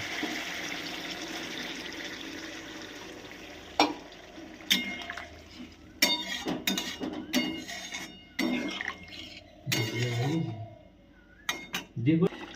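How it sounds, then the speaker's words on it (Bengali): Water is poured into a pan of spiced potatoes and stirred, a wash of splashing and liquid noise broken by sharp clinks and scrapes of a spoon against the metal pan, with intermittent clatter up close. "এবারে আমি আলুটা পেটার জন্য পরিমাণ মতো জল দিয়ে দেবো।"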